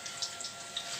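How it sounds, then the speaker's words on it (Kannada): Water pours into a pan of chicken ghee roast, a steady trickling splash lasting about a second with brief brighter spurts, fairly quiet and close. "ಒಂಚೂರು ನೀರು ಪಾಡಿ ಇಂಚ ಮಲ್ದಿತ್ತೆ"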